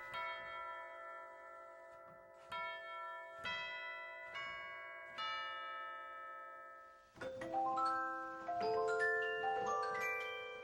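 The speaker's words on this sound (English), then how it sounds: "The solemn tone of the tubular chimes is used to open each worship service." Tubular chimes on a church pipe organ ring out in a slow sequence of solemn bell tones, each strike sustaining and overlapping, then a fuller cluster of chimes sounds together toward the end.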